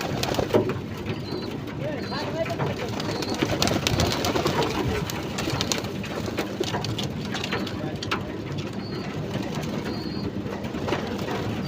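Pigeons coo softly among a constant patter like rain on a roof, with a voice talking faintly in the background.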